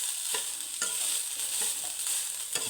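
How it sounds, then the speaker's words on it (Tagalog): Rice frying in a pan for a breakfast of fried rice, a steady close sizzle broken by regular scraping strokes of a spatula about every second, with no voices. "So, nagsangag po ako ng kanin."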